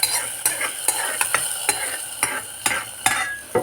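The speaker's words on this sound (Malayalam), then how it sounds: "കടുക് താളിക്കാം കേട്ടോ" Mustard seeds tempering in hot oil for a Kerala charu curry, a bright continuous sizzle broken by about a dozen sharp stirring scrapes and clinks against the pan at a steady rhythm, close and alone.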